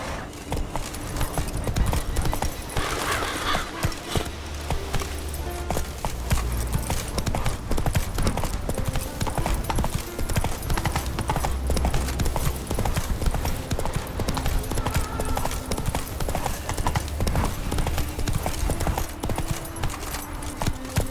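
Horse hooves in The Witcher 3 beat a fast, continuous galloping rhythm throughout, loud and close, with occasional game sounds layered over the pounding.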